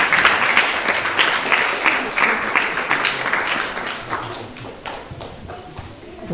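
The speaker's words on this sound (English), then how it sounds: "Big round of applause for both the couples and their children." Audience at a temple ceremony applauds couples and their children, loud dense clapping that gradually thins and fades over several seconds.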